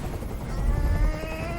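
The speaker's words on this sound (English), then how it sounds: "I can't stand that noise anymore. Tell that helicopter to get out of here." Helicopter in the video game Detroit: Become Human, a loud, close rotor thump with a deep pulsing drone and a whining engine tone, heard alone without speech.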